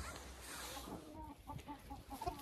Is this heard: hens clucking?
yes